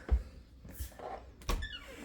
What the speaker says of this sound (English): so you can see how it opens up there, and it just catches on a magnet